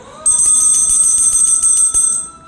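A small hand bell rings continuously at a home puja while food is offered to Krishna, making a bright, sustained metallic jangle that stops abruptly after a couple of seconds.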